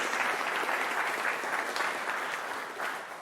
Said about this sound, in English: if we could just start with a round of applause for the RevenueCat team